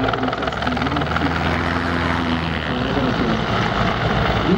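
A Mil Mi-24 Hind helicopter flying at the NATO Days 2014 air show, its loud rotor and turbine roar steady and close throughout, with a pulsing blade chop and shifting whine.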